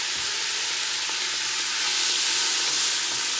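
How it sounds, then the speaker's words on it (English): Beef sizzles and fries in a hot pan with butter and oil, a steady close hiss that swells a little louder partway through, with no talking over it. "There goes the beef in the pan."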